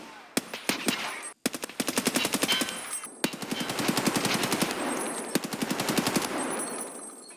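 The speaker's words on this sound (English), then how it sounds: "They adjusted the shooting range gunshot sounds to match indoor firing sounds." Rapid automatic gunfire at an indoor-style shooting range in the video game Escape from Tarkov, loud close bursts of dense shots with brief pauses between them, alone without talk.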